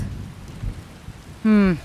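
Steady rain hisses across a Skyrim game scene, ending with a short, loud, tonal rumble or groan near the end.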